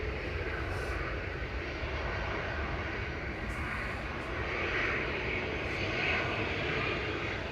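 Airliner jet engines roar at Manchester Airport in a steady, broad, continuous rumble that swells slightly toward the end, heard alone without talk.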